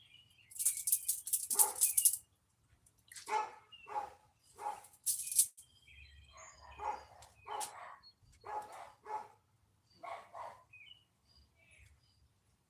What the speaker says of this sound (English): Neighbor's walking a dog by. Gotta make sure my dog don't get unruly.